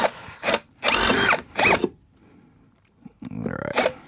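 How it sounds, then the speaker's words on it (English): Power drill boring holes in an amplifier chassis: several short, loud whirring bursts separated by pauses, then a longer grinding run near the end, with no clear talk. "today the skills are going to be mainly drilling holes."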